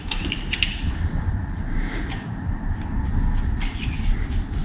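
Screw being threaded into a bicycle fender mount on a Monark klunker build, a close grinding, ratcheting mechanical creak that continues throughout, with no talk.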